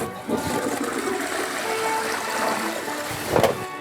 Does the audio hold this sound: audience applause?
no